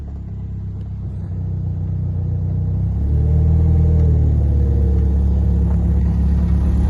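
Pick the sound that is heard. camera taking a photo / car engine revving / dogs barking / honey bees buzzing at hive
car engine revving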